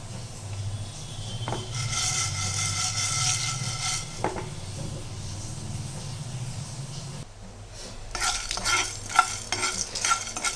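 Sesame seeds, chana dal and red chillies dry roasting in a pan, with steady scraping and stirring of a spatula over a soft crackle, plus a few sharper knocks; no talking.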